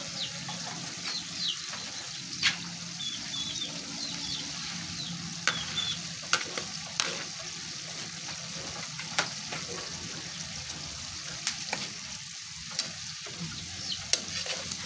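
String beans and tofu sizzle gently in a pan for adobong sitaw, with a steady frying hiss broken by repeated clicks and scrapes of a utensil stirring against the pan.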